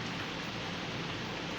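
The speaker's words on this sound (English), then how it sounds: "the samosa is frying" A big samosa fries in hot oil with a continuous, fine crackling sizzle, steady and fairly quiet, no voices over it.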